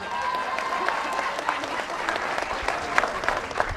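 An audience applauds at a film production event, a steady burst of dense clapping from a crowd for several seconds, fairly close and lively.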